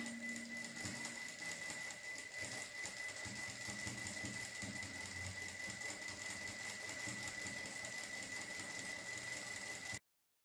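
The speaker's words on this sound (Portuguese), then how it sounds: "nós vamos lá na máquina e vamos fazer uma costura de pesponto em toda essa borda" A sewing machine runs a steady, continuous topstitch along the edge of a fabric piece for a small jewelry pouch, a constant close whirring hum with no talk.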